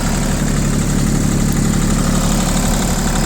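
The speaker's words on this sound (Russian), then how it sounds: "Думаю, слышно, как мотор работает." An ISEKI TU150 tractor engine runs at a steady idle, a loud, close, even diesel drone with constant low throbbing and no voices.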